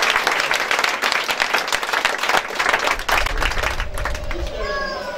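A church congregation applauding and cheering for the Lord during a French-language sermon, loud clapping mixed with voices and crowd noise for several seconds.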